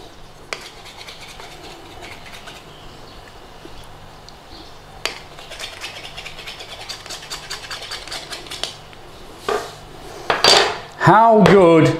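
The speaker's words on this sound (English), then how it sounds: "we want to be trimming our pastry off there. Back of the knife, boom, trim." A knife's back scraping and tapping against a pie dish to trim pastry, a run of small clinks and scrapes building to louder metallic knocks and rubbing at the end, close up.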